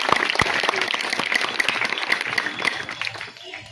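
A crowd at a charity event, where walking sticks, sweaters and saris are given to disabled people, breaks into sustained dense applause that fades near the end, with a voice faintly under it.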